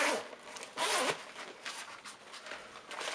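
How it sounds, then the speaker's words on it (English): Zipper on a fashion bag pulled open in a few quick, rasping strokes of varying length, close and quiet, with soft rustle between pulls. "Oh, the zip is actually very good on that bit."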